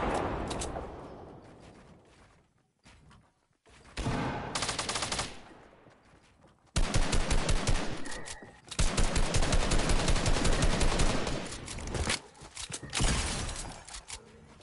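Gunfire erupts during a fight in Fortnite Season 8, with rapid automatic bursts and sharp single cracks that start and stop in loud clusters, separated by quieter gaps and a fading tail early on.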